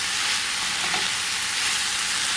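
Jackfruit sizzles loudly in a pan over medium heat as onions are stirred in, a dense, continuous close-up frying hiss with a faint scrape of the spatula.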